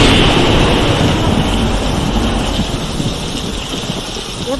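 Heavy rain in the Craft game, a loud, steady hiss of downpour with a low rumble beneath, continuous and close, slowly easing slightly.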